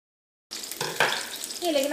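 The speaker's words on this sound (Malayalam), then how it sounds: "നമ്മുടെ വെളിച്ചെണ്ണ നന്നായിട്ട് ചൂടായിട്ടുണ്ട്. ഇനി ഇതിലേക്ക് നമുക്ക് ഏറ്റവും ആദ്യം തന്നെ നമുക്ക് ചുവന്നുള്ളിയും ഇഞ്ചിയും പച്ചമുളകും ചേർക്കാം" Shallots, ginger and green chillies dropped into hot coconut oil for peanut chutney: a sudden loud sizzle that bursts in after half a second of silence and keeps crackling and hissing while being stirred.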